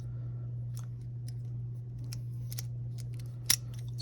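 Fiskars scissors on a used Leatherman MP600 multitool make a series of light, crisp snips over a steady low hum, with one sharper, louder cut near the end.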